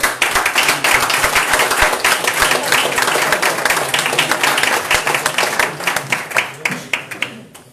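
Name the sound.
audience applause at pensions assembly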